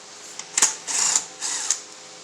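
A power tool whirs in three short bursts as 10mm bolts come off a rusty EarthQuake tiller gas tank, close by and with no talk.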